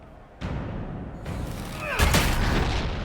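Gunfire and booming blasts in the video game Dragon Age Inquisition, a sharp onset followed by rumbling impacts and a louder crackling burst near the end, set against low background ambience.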